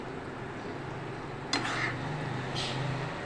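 A spoon stirs roasted eggplant bharta in a pot, giving soft scraping and light clinks, with a quiet sizzle underneath and two sharper scrapes near the middle and end.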